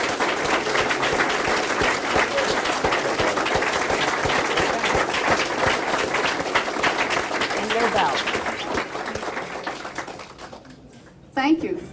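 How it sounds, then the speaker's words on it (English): Audience applause for candidates at the close of a U.S. House 5th District debate, steady dense clapping filling the room for about ten seconds before fading out, with a brief spoken voice at the end. "Thank you for your applause for our candidates"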